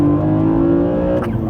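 A BMW Z4 M Coupe engine with a carbon airbox idles with a steady, throaty drone, then a quick, crisp blip of the throttle near the end.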